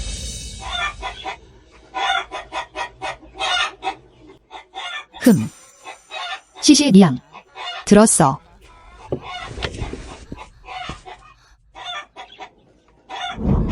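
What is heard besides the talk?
live rooster clucking and crowing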